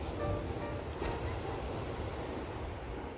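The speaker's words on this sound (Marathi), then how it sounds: "तुम्हाला मी दाखवते ह्या सगळ्या लाटा येतात बघा पाण्याचा आवाज आपल्याला ऐकू येईल" Ocean surf rolls in at Redondo Beach, a steady, close roar of breaking waves with wind buffeting across the whole stretch.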